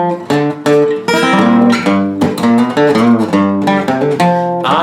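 A short, lively electric guitar solo with quick picked notes and bends, played loud and alone.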